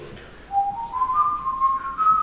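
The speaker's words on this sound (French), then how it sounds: "si on se met à siffloter" A person whistles a short rising tune, a single clear melodic line that slides upward and holds, heard up close over a quiet background.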